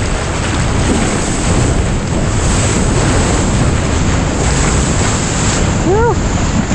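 Ocean surf roars around a swimmer, loud and close, as a constant wash of breaking waves and churning water mixed with heavy wind buffeting on the microphone, with no talking.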